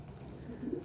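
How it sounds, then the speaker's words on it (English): A pet bird gives a short, soft cooing call, low and close in a quiet indoor room, rising briefly at the end. "I hear that Bird too"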